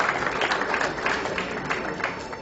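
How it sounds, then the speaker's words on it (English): Audience applause welcoming a speaker to the dais at a healthcare-industry event, NATHEALTH's second annual gathering: steady, dense clapping from a crowd sustained evenly throughout, fairly close and moderately loud. "Can we please welcome him with a huge round of applause"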